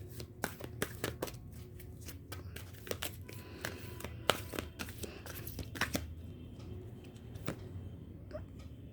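Tarot guidance cards being shuffled and drawn from the deck make close, crisp riffles and soft slaps in quick irregular bursts, fairly quiet, with no talking.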